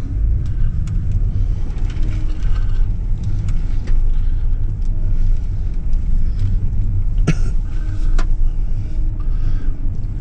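Four-wheel-drive vehicle rolling through a shallow puddle on a rough camping track, a steady close engine rumble with low road noise throughout and a few brief splashy clunks.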